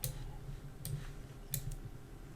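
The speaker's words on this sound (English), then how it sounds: "here I'm going to type in the login access" A computer keyboard while login details are entered: a handful of quiet, sparse clicks spaced irregularly over a soft, steady room hum, with no talking.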